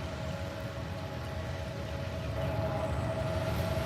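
A train horn sounds near a rural property where dogs have been lost on the tracks, a steady sustained tone held for several seconds over low rumbling rail noise.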